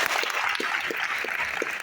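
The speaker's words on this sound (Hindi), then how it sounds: "सर के लिए एक बार जोरदार तालियां।" An audience at a business motivational seminar claps loudly for the host, a brief, dense burst of applause with a few sharper individual claps standing out, close and steady throughout.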